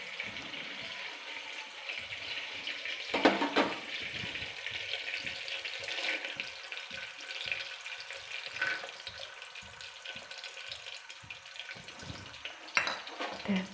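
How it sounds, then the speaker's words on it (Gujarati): Cashews and almonds frying in very hot ghee for Gujarati urmu, a steady close crackle and sizzle with occasional stirring clatters. "તો હવે આપણે એમાં કાજુ બદામ એડ કરી દઈએ."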